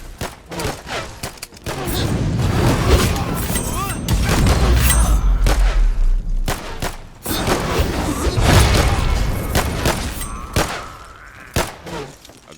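Repeated gunfire bursts and heavy thuds in the video game Elementite, loud and close, coming in clusters with short gaps, while a player talks between shots.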